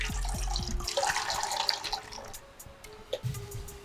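Water is poured into a pot for making tea, a short splashing, gurgling pour that fades out after about two seconds, leaving faint clinks and low background noise.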